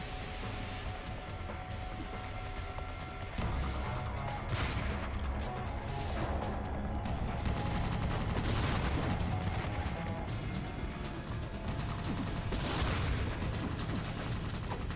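Dense, continuous gunfire from the video game Army Men: Sarge's War, with heavy overlapping shots and bursts forming a steady battle roar throughout.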